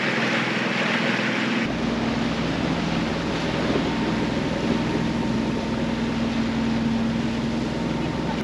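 A sailboat's inboard engine runs at raised revs while motoring through a tidal cut off Eleuthera, a steady drone under constant wind and water noise on deck.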